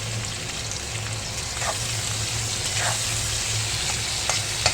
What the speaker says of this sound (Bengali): মেথি আর কালো জিরে আমি ফোড়নে দিলাম